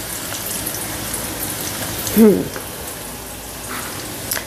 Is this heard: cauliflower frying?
yes